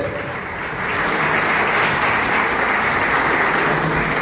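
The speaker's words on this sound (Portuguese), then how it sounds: "Por isso que nós te aplaudimos mais uma vez." A church congregation applauds during worship, a dense, even wall of clapping that rises after a softer first second and stays loud and steady throughout, with no voices standing out.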